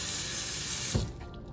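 Tap water runs steadily into a sink over a sponge used for cleaning hobby paint tools, a close, full rush that cuts off abruptly partway through, leaving faint dripping and room tone.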